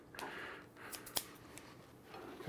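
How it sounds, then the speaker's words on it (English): Quiet snipping of multi-blade herb scissors through green onion stalks, a few crisp cuts spaced irregularly, close up with no voices. "It's just a pair of scissors with a bunch of blades in it."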